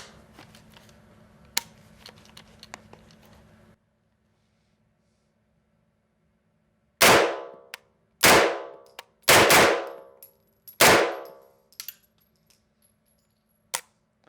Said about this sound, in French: Donc c'est parti pour les tout premiers tirs avec le MP5.